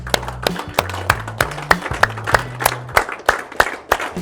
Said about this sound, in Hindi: तालियां बजाएंगे मेरे साथ